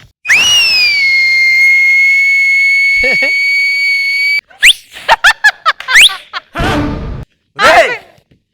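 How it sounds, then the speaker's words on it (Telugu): A long, loud, steady whistle blast lasting several seconds, followed by shorter chirpy whistle bursts and lively sounds in quick succession. "విజిల్ అయింది"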